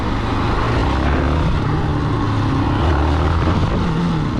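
A motorcycle engine drones loudly and steadily at high revs as the rider builds speed for a wheelie in second gear, a continuous close roar with no break.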